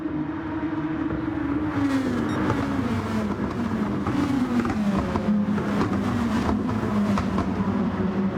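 Group 2 race cars lap Fuji in the Gran Turismo racing game. A loud, continuous engine drone slides slowly downward in pitch while other cars roar close by, and faint crackles sound over the top.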